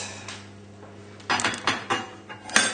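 A steak is set down on a plate, with several loud clinks and clatters of crockery and cutlery, sharp and close, in a short run of hits after a quiet start.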